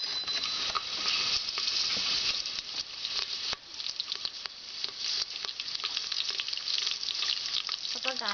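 Bay leaves sizzle in hot ghee inside a pressure cooker while cooking chicken biryani, giving a steady, loud frying hiss with crackling pops throughout, close and alone without talk.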